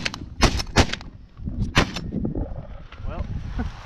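Shotgun blasts from a sandhill crane and goose hunt in the Texas Panhandle: several sharp, loud reports in quick succession near the start, then one more, with hunters talking around and after the shots.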